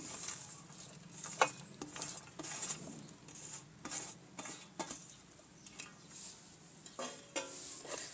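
Chopped green chili, coriander, green garlic, spinach, fenugreek leaves and onion being stirred into bajiya batter, a steady wet mixing and scraping in a bowl with soft clinks, close and continuous, no talk.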